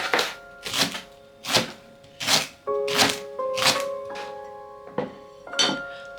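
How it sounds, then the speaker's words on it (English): A knife chops leeks on a cutting board in a kitchen, about eight sharp, evenly spaced strokes landing close and clear with no talking, while a faint steady tone hums underneath. "first let's chop up our leeks"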